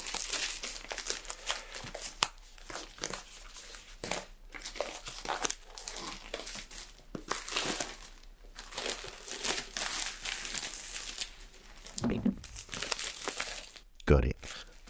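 Plastic shrink-wrap being crinkled and torn off a Madness "Rise & Fall" vinyl record, close crackling that comes in bursts with short pauses and ends in a couple of sharper rips, with no talking.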